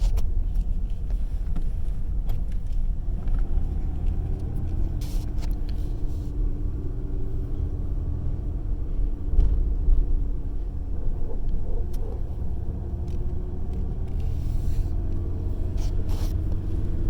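Manual Ford Ranger pickup engine running while driving, a steady low rumble with road and cabin noise that holds fairly constant throughout.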